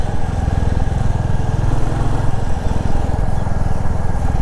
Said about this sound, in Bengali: বাইকটা রাইডিং অবস্থায় এটার যে সাউন্ডটা আসে না, আপনার কলিজা এমনি ঠান্ডা হয়ে যাবে।